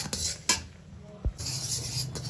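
Puffed rice stirred into melted jaggery in a pan for Gujarati mamra ladoo, heard as a few sharp clinks of a spoon against the pan over soft rustling, fairly quiet.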